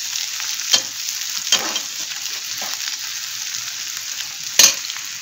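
Potato filling is stirred in a frying pan over a soft, steady sizzle, with a few sharp scrapes and knocks of the spatula against the pan at irregular moments.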